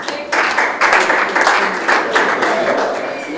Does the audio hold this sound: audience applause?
yes